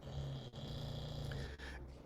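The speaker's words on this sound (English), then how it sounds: "And apologies, Neil, my dog is snoring in the background." A dog snoring in the background during an online talk, a low, steady rumbling snore that runs through most of the moment with brief breaks, fairly quiet and alone without talk.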